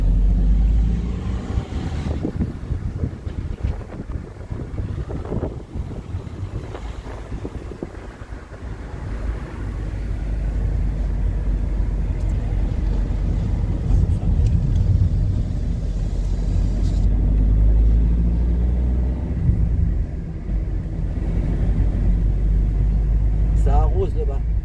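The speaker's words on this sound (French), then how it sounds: "C'est passé la bagnole." A car passing along a country lane in mid-August, its engine rumble swelling and fading amid steady wind noise, with people chatting throughout.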